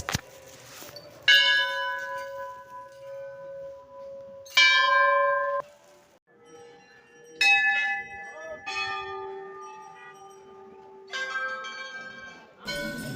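Many temple bells ring at the Golu Devta temple in the Nainital and Mukteshwar hills, a sequence of loud, bright metallic strikes with long shimmering decays, some overlapping, heard close with a few quieter clinks in between.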